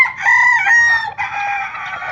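A young stag rooster crows once, loud and close, with a long strained cock-a-doodle-doo that breaks partway and trails off.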